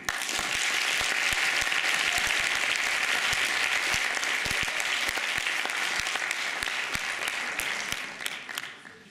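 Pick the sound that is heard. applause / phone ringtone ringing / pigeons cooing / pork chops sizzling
applause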